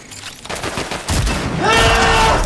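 Gunfire in the Fortnite video game, scattered shots building into a dense, loud volley of rapid fire with ringing tones toward the end.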